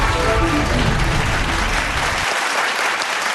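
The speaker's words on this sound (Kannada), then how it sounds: "ಬರ್ಲಿ ಅವ್ರಿಗೂ ಜೋರಾದ ಚಪ್ಪಾಳೆ" Loud applause from a studio audience at a Kannada television game show, dense steady clapping that fills most of the moment and then thins and cuts off abruptly near the end.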